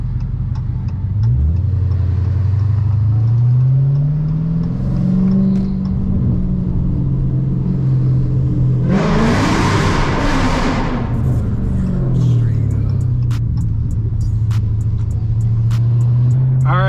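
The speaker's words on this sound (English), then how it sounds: "Downshifts in here are definitely a lot quieter with the seats back in and everything." A car engine heard from inside the cabin while downshifting, its steady hum rising and falling in pitch with a loud, brief rev burst midway; no talking.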